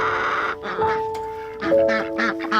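Ducks out in the snow quack in short, loud nasal bursts close by, several calls overlapping across a few seconds.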